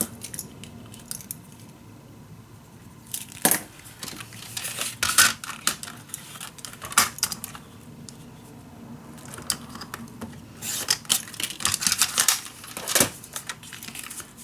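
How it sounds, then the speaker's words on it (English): Design paper being cut for a scrapbook pop-up element, giving scattered crisp snips and papery rustles in uneven bursts, close and fairly quiet, with no voices. "Now I can cut my design paper."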